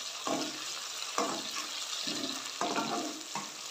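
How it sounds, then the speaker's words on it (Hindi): Cauliflower sabzi roasts in a pan with a soft, continuous sizzle, cut by several short stirring scrapes that come at a moderate distance. "एक मिनट के लिए भुनेंगे,"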